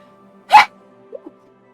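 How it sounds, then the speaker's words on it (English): A single short, sharp human sneeze bursts out clearly against near silence, followed by two faint small breathy sounds. "Sorry, I just sneezed."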